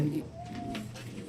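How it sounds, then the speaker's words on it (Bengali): A domestic pigeon gives a soft, short coo nearby, one brief throaty call, as it is lifted off its eggs. "ডিম থেকে তুলে দিচ্ছি পায়রাগুলোকে আমার আজহার ভাইয়ের পায়রা"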